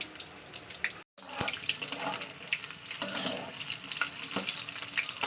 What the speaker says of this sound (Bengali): তো চলুন এটাও দিয়ে দিই দুটো একসঙ্গে ভাজা হয়ে যাবে